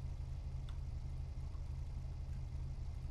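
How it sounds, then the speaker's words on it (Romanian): A car engine idling in the video game GTA 5, a low steady rumble that holds constant throughout with no voices. "Stai să opresc motorul."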